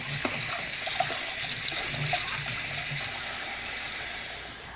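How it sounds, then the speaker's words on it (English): Water runs steadily from a kitchen tap as hands are washed beneath it, a continuous close splashing stream with small shifts in flow and no talk. "I'm going to wash my hands"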